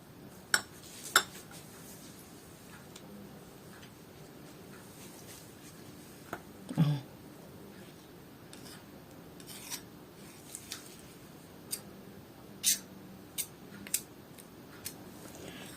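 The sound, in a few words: stirring honey, lemon and oil mixture in a bowl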